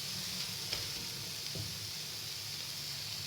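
Spices sizzle steadily in a hot pan for masala pav, a continuous quiet frying hiss with a couple of faint stirring clicks, no voices.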